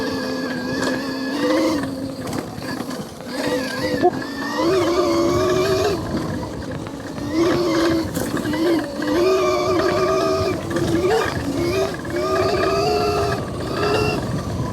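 Altis Delta electric dirt bike ridden at full throttle over rough trail, a steady whining motor with rising and falling pitch as the rider accelerates, continuous and close throughout.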